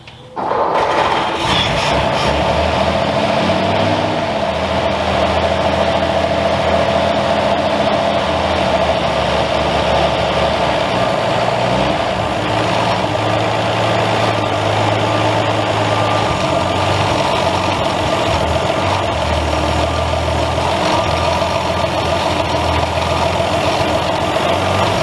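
A 1952 Ford F1 truck engine, revived after 36 years abandoned, idles loudly and steadily with a low, rough rumble that holds nearly unchanged for the whole stretch after a short start.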